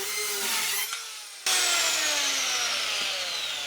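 A budget power saw, a one-star tool, cuts fast through wood, a loud steady high whine with a brief drop as the blade bogs near the middle, then roaring on strongly and close.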